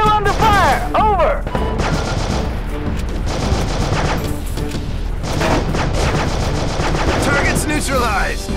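Heavy automatic gunfire and explosions in the Afghanistan combat shooter Heavy Fire, dense rapid bursts with crashes, loud and continuous under radio chatter voices.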